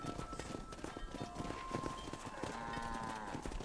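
Cattle and horse hooves in Red Dead Redemption 2, a steady clatter of many hoofbeats from a moving herd, mixed with lowing tones and a bed of game ambience and music throughout.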